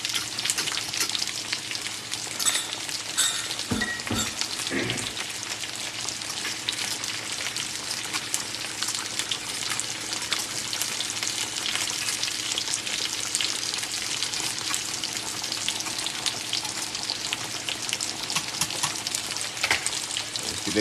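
Thickened honey chicken sauce with cornstarch boils and sizzles steadily in a pan, a dense continuous frying hiss with a few brief clatters near the start.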